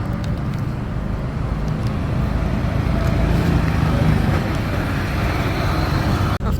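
A bus pulls up on a road, its steady engine rumble and traffic noise filling the scene at close range with little change, before a brief sharp click near the end.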